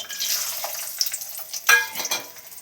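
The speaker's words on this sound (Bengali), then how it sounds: "কাজু কিশমিশটা আগে ভেজে নেব।" Cashews and raisins frying in a pan, a soft steady sizzle with a few sharper pops and clinks of stirring midway, close and fairly quiet with no talking.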